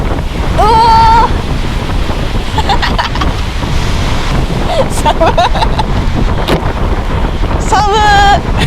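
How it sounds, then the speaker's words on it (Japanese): Strong gusting wind roars against the microphone at night on the Seto Inland Sea coast, a steady loud buffeting throughout, with voices speaking over it at a few moments. "風すごいやろ"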